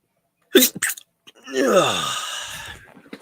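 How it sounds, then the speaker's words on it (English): A quick sneeze, close and sharp, followed by a voiced exhale or groan. "Damn sneezing."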